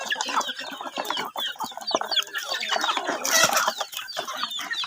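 Chickens clucking busily while being fed in the evening, several birds close by in overlapping chatter with sharp calls and scratching, no speech.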